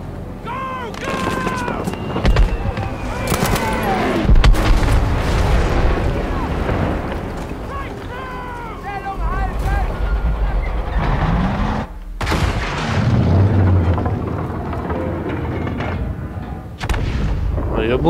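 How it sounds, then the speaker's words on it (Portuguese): Battlefield 5 combat on an Xbox Series S: heavy booming explosions and bursts of gunfire, loud and repeated, with deep rumbling blasts and shouting voices throughout. "Olha só a explosão."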